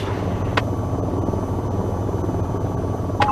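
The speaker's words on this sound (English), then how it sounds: "At this point, the helicopter is ready to take off." A helicopter engine idles before takeoff in the VTOL VR flight game, a steady low drone and whine holding at an even level with a couple of faint cockpit clicks.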